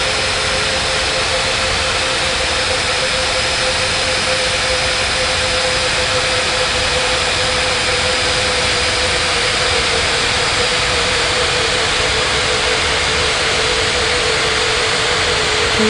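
Jet airliner roaring on takeoff in an air traffic control game: a loud, steady, unbroken engine roar with a constant whine, filling the whole stretch without pause and with no voices.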